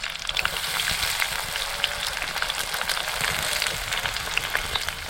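Onion and garlic frying in a pan for a Konkan-style dried shrimp (kolim) and brinjal dish, a steady close sizzle with soft crackles and occasional stirring throughout, no voices.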